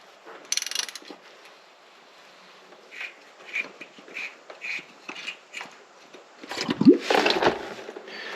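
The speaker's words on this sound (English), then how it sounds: "we're going to take our oil filter wrench, go ahead and snap it on our socket" Ratchet with an oil filter wrench loosening the oil filter on a Toyota Tacoma: a run of short, evenly spaced clicks, close up, ending in a louder burst of metal scraping as the filter breaks free.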